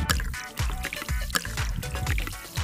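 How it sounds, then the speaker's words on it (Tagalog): Water poured into a container, a close, bubbling trickle with irregular gurgles and splashes running continuously at moderate volume. "Nilalagyan ko po siya ng tubig"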